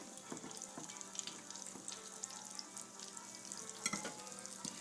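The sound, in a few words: green tomato slices frying in hot oil, black iron skillet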